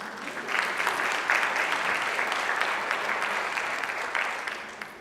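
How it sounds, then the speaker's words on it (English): Moderately quiet applause from a conference audience at a finance event, an even wash of clapping that swells briefly and holds throughout. "Please give these men a hand."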